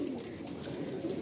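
A Madrasi breeder pigeon gives a single soft, low coo, close by but quiet, with nothing else over it.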